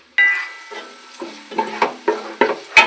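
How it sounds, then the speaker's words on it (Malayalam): Carrots and beans hiss and sizzle in hot oil, with a burst as they hit the pan followed by repeated stirring scrapes and sizzles. "ക്യാരറ്റും കുറച്ച് ബീൻസ് ഉണ്ടല്ലോ അതിനകത്തോട്ട് നമ്മൾ ആ വറുത്ത് വെച്ചിരിക്കുന്ന എണ്ണയിലോട്ട് ഇട്ട് കൊടുക്കാം"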